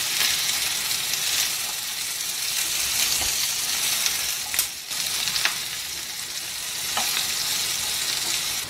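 Chopped ridge gourd sizzles and fries in a pan for chutney, a continuous bright hiss with a few sharp crackles and stirring scrapes partway through.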